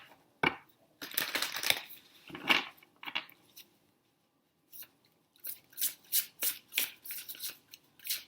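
Tarot cards are riffled and shuffled in irregular papery bursts with slaps and rubbing. After a short silence comes a rapid series of crisp card flicks as cards are drawn, all close and without speech.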